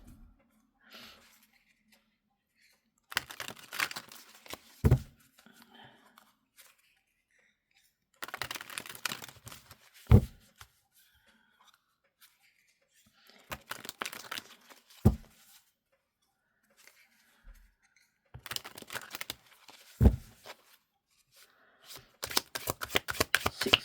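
A tarot deck is shuffled in four separate bursts of riffling and flicking card sounds, each ending in a sharp tap as the cards are squared, with quiet pauses between bursts, close and soft.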